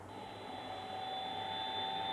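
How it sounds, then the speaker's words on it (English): A Hornby HM6000 model train sound unit set to an electric locomotive profile gives a steady whirring hum with a high whine, continuous and close, vacuum-like and slowly rising. "Okay, so yeah, that's an electric locomotive. Sounds like a vacuum cleaner, I guess."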